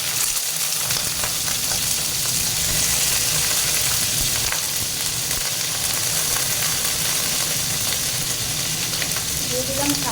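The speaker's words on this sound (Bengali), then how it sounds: "বেগুনটা একটু ভেজে নিচ্ছি" Eggplant frying in hot oil, a loud, dense, steady sizzle that carries on unbroken for the whole stretch, close up, with no voices over it.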